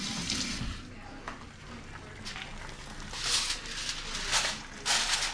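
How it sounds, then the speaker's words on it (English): Water is poured into a pan while pancakes and egg cook, a loud, steady rush and splash with a few sizzling bursts and clatters close by. "I'm gonna add a little bit more water"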